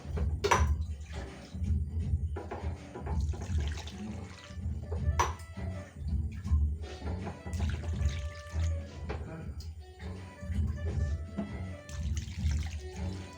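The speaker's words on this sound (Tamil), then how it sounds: "இப்போ இதில் தண்ணி ஊற்றிக்கலாம்" Water is poured from a small tumbler into a pot of spicy crab masala, a close, continuous splashing and trickling stream with a few brief pauses between pours.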